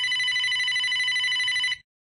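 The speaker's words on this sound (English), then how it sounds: "Are you just going to let it ring?" Steady electronic ringtone from a mobile phone in a quiet room, a bright continuous warbling pattern lasting under two seconds before stopping suddenly.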